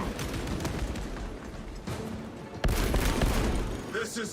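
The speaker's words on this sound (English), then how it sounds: "Heavy bolt pistol." Heavy bolt pistol firing in Warhammer 40k Space Marine 2, a dense burst of booming gunshots over loud battle noise, with a sharper, louder volley partway through and continuous rumbling game ambience.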